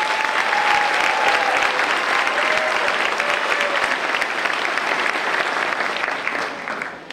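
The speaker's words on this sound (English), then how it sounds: "Let's give them a round of applause." Sustained audience applause at a high school graduation ceremony, a dense, steady wash of clapping from a large crowd that holds for about seven seconds before easing slightly at the end.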